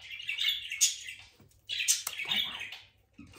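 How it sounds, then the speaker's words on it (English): Budgies chirp and warble in quick, bright bursts, two busy flurries of shrill tweets close by with short pauses between. "the budgies are really annoying"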